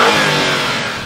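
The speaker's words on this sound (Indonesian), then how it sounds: "buat mobil ini dia udah pakai sport exhaust. Jadi ini bikin suara knalpotnya lebih keras" Porsche Panamera 4 E-Hybrid Sport Turismo with a sport exhaust revs loudly up close, a single sustained engine roar that eases off slightly at the end.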